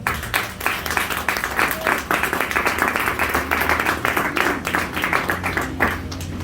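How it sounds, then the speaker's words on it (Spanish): A church congregation applauds during a sermon, sustained rhythmic clapping for over six seconds, loud and close, with individual claps pulsing through the crowd sound. "Denle un aplauso a ese Dios"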